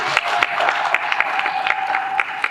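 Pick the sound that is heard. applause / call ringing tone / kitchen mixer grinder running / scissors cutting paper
applause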